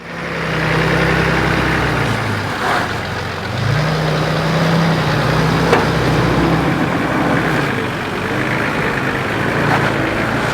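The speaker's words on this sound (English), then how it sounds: "It was the same engine as Tim and I have" A 4WD diesel engine idles steadily nearby, a low throbbing rumble that rises and falls slightly over the whole stretch.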